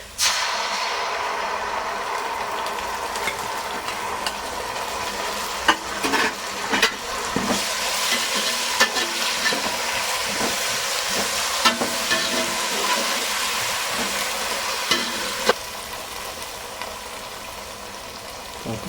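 Ginger garlic paste fries in oil for a vegetable pulao, giving a loud, steady sizzle with scattered knocks and scrapes of stirring throughout.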